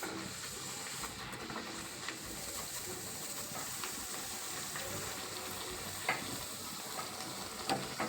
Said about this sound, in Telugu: ఇలా డీప్ ఫ్రై బాగుండాలి.